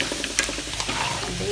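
Carrots and potatoes are stirred in a pan for chapathi kurma, making a brief burst of close scraping and soft sizzling with a few sharp utensil clicks.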